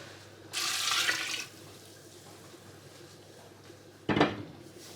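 Turkey stock poured from a container into a cooking pot with shallots and salt, a brief bright splash of liquid lasting about a second, followed later by a short clatter of the pot.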